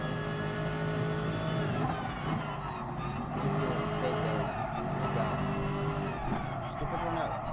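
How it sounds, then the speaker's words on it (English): Race car engine revving and accelerating in Gran Turismo Sport, a continuous rising and falling whine with tire noise, steady and loud under a talking voice. "Gotta step on the gas."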